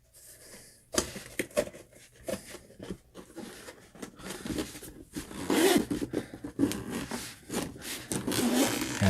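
A zipper on a Radiomaster Zorro radio controller case drags and catches on the cloth at a corner, making close, uneven bursts of scraping and rasping with short pauses between pulls.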